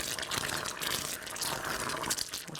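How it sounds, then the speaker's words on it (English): Thick coconut cream frosting mixture bubbling and popping in a pot, a steady close-up simmer with soft crackling bursts. "It's bubbling along nicely."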